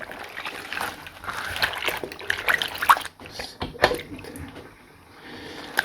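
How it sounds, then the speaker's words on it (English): Water runs and trickles out of a basin while old 1990s mermaid dolls are washed by hand, with small splashes and gurgles and soft handling noises, heard close. "Let that water run out."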